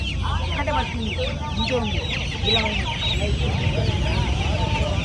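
A crowd of Giriraja chickens at a poultry market in Mydukuru clucks and chatters continuously, overlapping calls close by, with a murmur of voices in the background.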